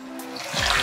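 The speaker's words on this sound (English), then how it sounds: "Next, I'm going to add some water" Water pours into a cooking pot over seasoned chicken for stock, a brief rising splash that grows louder toward the end.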